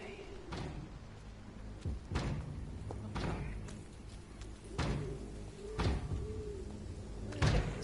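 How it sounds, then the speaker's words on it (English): Someone in Vampyr pounds on a door in repeated heavy thuds at roughly one-second intervals, muffled and booming under a low ambient background. "He's just banging on the door."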